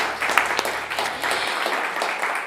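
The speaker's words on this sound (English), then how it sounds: "How about one more round of applause for Dale J. Gordon, the first half of the show?" Studio audience applauding a performer at a live radio show, a brief wash of clapping that carries on for a couple of seconds and then eases off.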